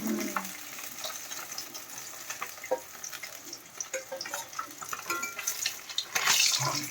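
Steady crackling and hiss of rohu fish frying in hot oil, with occasional light clinks of a utensil against the pan, close and continuous.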